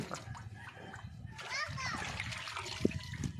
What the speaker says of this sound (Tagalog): binabanlawan din siya ng tubig tabang